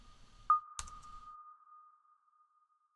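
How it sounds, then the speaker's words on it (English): A SuperCollider tone synth is freed and its reverb tail rings on as a single sustained pitched tone after a soft click, fading smoothly into silence over about two seconds. "listen to the reverb"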